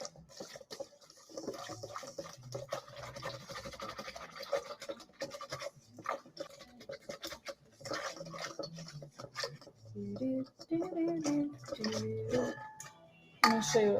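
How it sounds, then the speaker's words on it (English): Ingredients for a cold fermented dough being whisked in a bowl, rapid irregular scratchy taps and clinks, close and fairly quiet, growing louder near the end. "let's whisk this in"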